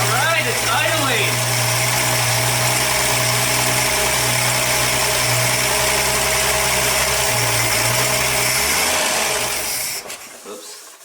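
Close, loud idle of an abandoned 1962 AMC Rambler engine, a steady, slightly rough hum that runs continuously before cutting off abruptly near the end.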